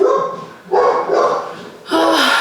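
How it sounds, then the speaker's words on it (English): A pet dog barks close by at home, three loud separate bursts with short pauses between them. "My dog."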